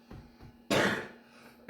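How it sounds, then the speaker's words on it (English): A single sharp cough sounds close and loud, with a rough burst after a brief moment of quiet breathing, and no talking is heard. "it could be a chronic cough"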